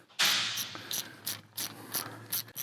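A wrench ratchets as it tightens the spindle nut on a 2021+ Ford F-150 CV axle, with one long initial crank followed by a steady series of short, crisp clicking pulls, close and alone.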